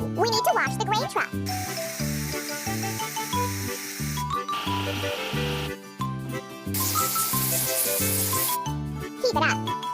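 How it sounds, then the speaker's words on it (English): In a cartoon farming video game, a water sprayer washes a grain truck, giving bursts of bright hissing spray over bouncy, jingly background music with chimes. "We need to wash the grain truck."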